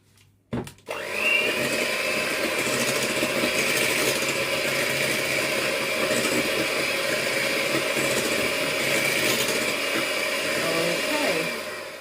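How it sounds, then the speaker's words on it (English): An electric mixer whisks cheesecake batter in a steady, continuous whirring drone for about ten seconds, starting abruptly after a brief clatter and slowing slightly at the end. "let me see if I can whisk this again."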